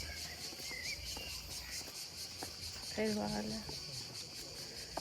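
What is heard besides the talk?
crickets chirping at night on a Venice island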